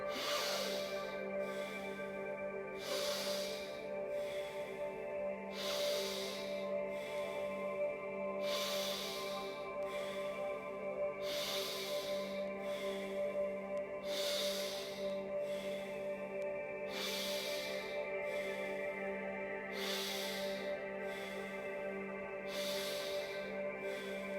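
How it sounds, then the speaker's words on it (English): Someone does a paced nasal breathing exercise through both nostrils, with sharp rhythmic sniffing exhalations repeating roughly every three seconds over a soft steady background tone. "Switch sides or keep going through both nostrils."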